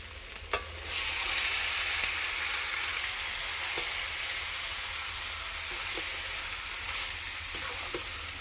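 Turmeric frying in hot oil: a steady, close sizzle bursts in after a short quiet start and hisses evenly throughout, with a few faint stirring taps.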